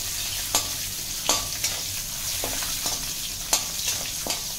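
Green chillies and urad dal sauté in a hot pan for a lemon idiyappam tempering, a steady close sizzle broken by several sharp scraping stirs of a spoon against the metal.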